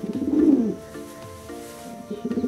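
A male checker pigeon in a loft gives a close, fairly loud coo that swells and fades, followed by softer, steady tonal cooing notes that rise again at the end.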